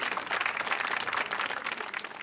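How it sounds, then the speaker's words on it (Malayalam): An audience applauds a comedy team's performance on a TV comedy show, a dense, continuous round of clapping from a crowd, moderately loud and steady with no speech. "മണിക്കുട്ട ചേട്ടനും ടീമിനും ഗംഭീരമായി കയ്യടി."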